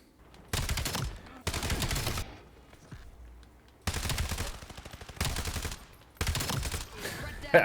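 Automatic gunfire in the shooter game Black Ops 7 rattles out in several loud, separate bursts, each lasting about a second, with short quiet gaps between them.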